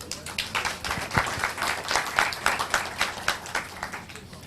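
A medical workshop audience in Rio de Janeiro breaks into applause, a dense patter of many hands clapping at moderate distance, steady for several seconds without talk.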